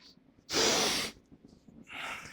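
Two forceful breaths during a kettlebell clean and press, first a long loud hissing exhale, then a shorter one after a pause, both close and with no talk.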